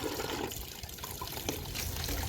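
Water splashes and trickles while a bucket is being washed, a close, uneven pouring and sloshing that runs throughout without talk.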